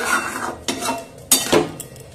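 A spoon scrapes and clinks against a pan while mustard powder, ghee and sugar are stirred into a Bengali chal kumro shukto, giving a few sharp metallic knocks over a soft, steady scraping.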